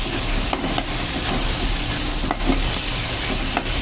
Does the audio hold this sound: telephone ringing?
no